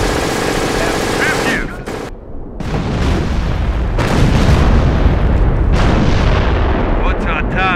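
Rapid, heavy cannon fire from a Flakpanzer Wirbelwind in Company of Heroes, set amid loud continuous battle noise with booms and bursts, briefly dropping away before the din resumes at full strength.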